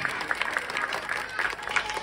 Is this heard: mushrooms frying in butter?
no